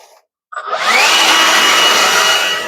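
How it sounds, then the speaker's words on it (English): At an outdoor homestead cooking area, a leaf blower roars to life after a short silence and keeps up a loud, steady rushing blast of air close by. "See if we can get some of this, more of this stuff down with the blower."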